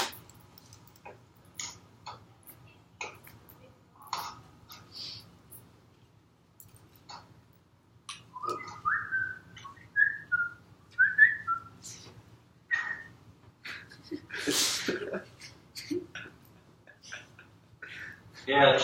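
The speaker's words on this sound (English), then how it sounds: "somebody's trying to whistle elevator music" Someone whistles a light elevator-music tune in a classroom, faint scattered notes breaking through quiet room noise and occasional ticking clicks.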